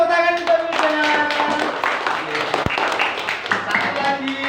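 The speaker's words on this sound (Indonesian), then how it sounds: "Beri tepuk tangan untuk Wildan." Classroom applause for a pupil during an Islamic religious lesson, a burst of many hands clapping close by, mixed with children's voices and talk throughout.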